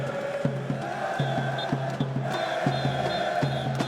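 An esports arena crowd at a Counter-Strike match between Heroic and Liquid on Overpass at the IEM Rio Major 2022 sends up a steady roar of cheering, with rhythmic thumping claps or stomps repeating through it.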